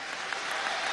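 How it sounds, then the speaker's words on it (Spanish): Workers clapping for their spokesman during a presidential visit to the Kimberly Clark plant in Aragua, a brief, dense burst of applause that fills the space evenly. "un aplauso para Luis Guillén"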